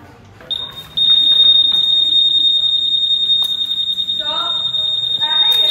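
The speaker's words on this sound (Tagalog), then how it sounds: "Alarm test." A loud, continuous high-pitched electronic alarm tone from a Honda Winner X 150 motorcycle's anti-theft alarm sounds steadily after a brief start, with faint background noise beneath it.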